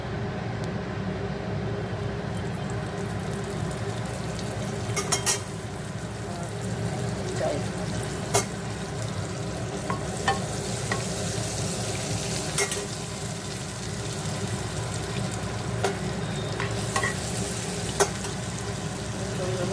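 Ground kakrol paste hitting hot oil in a pan after the gourds are fried, a steady close sizzle with faint stirring clicks throughout, under occasional low talk.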